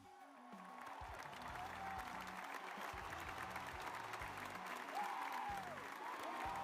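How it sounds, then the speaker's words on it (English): A round of applause during a live-streamed coding session, a quiet, dense patter of clapping rising in the first second and holding steady, with faint background tones. "And a round of applause."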